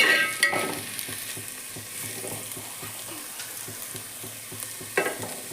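Tomatoes sauté in oil in a pan for a thirty-leaf chutney with a continuous close sizzle, a regular rhythm of spatula scrapes and taps, and a few louder clanks at the start and near the end.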